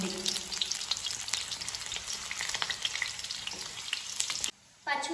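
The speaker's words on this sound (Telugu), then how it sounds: "పచ్చిమిర్చి అయితే చక్కగా వేగింది ఆయిల్లో" Green chilies frying in oil crackle and sizzle steadily with stirring scrapes, fairly quiet and close, cutting out briefly near the end before resuming.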